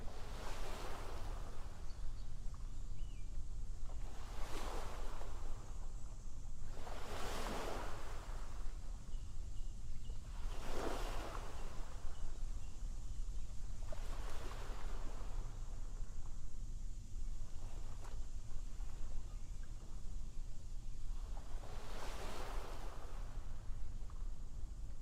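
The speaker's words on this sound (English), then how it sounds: "Now you can hear that lovely swell of the ocean as it hits the shore." Ocean swell rolls onto a beach in a series of soft, evenly spaced surges, each wave breaking in a broad wash about every three to four seconds over constant wind noise.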